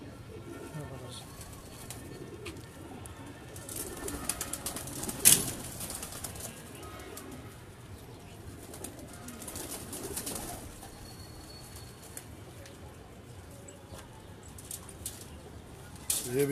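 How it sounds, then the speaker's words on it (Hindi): Pigeons at a fancier's loft, including Teddy pigeons, with soft cooing and a brief burst of wing flapping around the middle, heard amid steady background noise and some talk. "ये टेडी कबूतर है ये हमारे"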